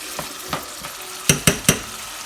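Sauce poured little by little into a hot pan of black beans and pumpkin, giving a steady low sizzle broken by a few soft stirring scrapes and three sharp, loud hissing bursts close together near the end.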